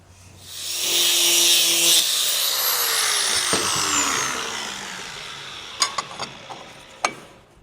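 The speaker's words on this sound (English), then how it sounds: "So I'm grinding this because there's a tubular cross member right here" A power grinder working metal on the tubular cross member of a jalopy Jeep build: a harsh, loud grinding whine for a few seconds that winds down as the tool spins off, followed by a few sharp metallic knocks.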